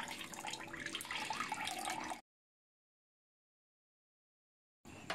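Water strained out of ground maize splashes and trickles steadily, close by, for about two seconds, then cuts to silence before the sound briefly returns.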